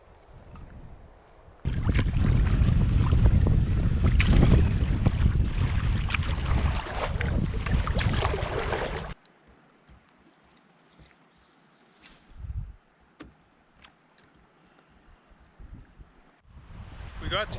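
Strong wind gusts loudly over a lakeside wilderness camp where a canoe has been pulled up from the water, heavy buffeting for several seconds before dropping to near calm with faint scattered sounds.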